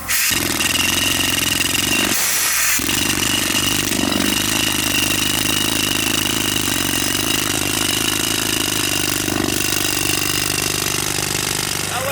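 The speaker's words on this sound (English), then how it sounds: "It's an air rock drill" A loud pneumatic rock drill runs steadily, a dense, rattling mechanical roar that dips briefly once before continuing at full strength.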